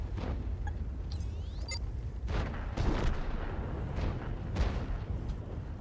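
Tank cannon fire in the World of Tanks game, with a low rumbling battle bed and several heavy booming shots spread over a few seconds.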